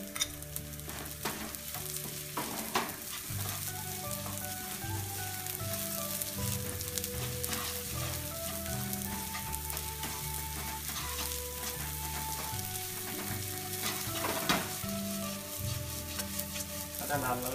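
Rice fries in a pan for pulao in a rice cooker, making a steady soft sizzle with occasional stirring scrapes. Gentle background music plays throughout.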